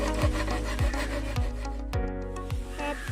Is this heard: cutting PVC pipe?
yes